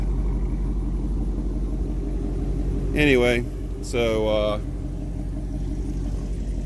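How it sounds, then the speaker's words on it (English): A car fitted with a replacement exhaust idles with a deep, steady low rumble throughout, while someone speaks briefly over it. "at idle, it sounds a lot deeper than it did with the other exhaust"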